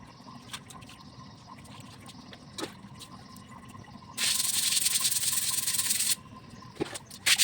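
A broom sweeps an outdoor floor with one sustained, rough scraping run lasting about two seconds, set against a quiet background with a few light knocks.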